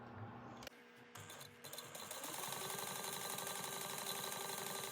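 A sewing machine runs steadily for several seconds, top stitching vinyl an eighth of an inch from the edge for a light-up bag, with a dense rapid needle rhythm that starts after a short pause.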